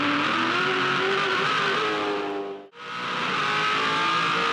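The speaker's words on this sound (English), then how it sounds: "Some drivers just hanging on there in the rev limiter" V8 Supercars race cars at the 2007 Adelaide 500 street circuit hold their engines on the rev limiter, a loud sustained high-pitched blare that dips sharply for an instant mid-way before surging straight back.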